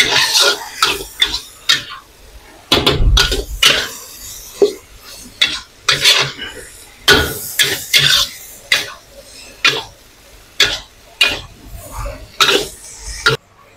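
Repeated scraping and clanking of a utensil against a metal wok in uneven strokes while stir-frying rice noodles for tom yum fried bihun, with soft sizzling between the bursts.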